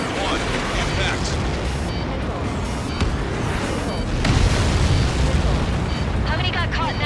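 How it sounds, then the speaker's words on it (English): A massive Helios projectile impact explosion in the Ace Combat 7 flight game, a dense roaring rumble with booming surges that swell louder midway, under a continuous wash of game sound and some radio chatter. "How many got caught in that explosion?"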